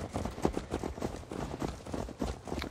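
Horse hoofbeats during riding in Assassin's Creed Valhalla on PS5, a faint, steady clip-clop of repeated hoof strikes in an even galloping rhythm.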